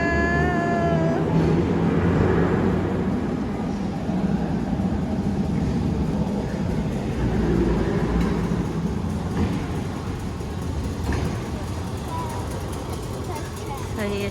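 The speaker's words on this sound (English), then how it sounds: "So here's the train." A Christchurch city tram arrives with a broad low rumble and rolling rail noise that builds and then eases off, heard up close while people talk excitedly over it.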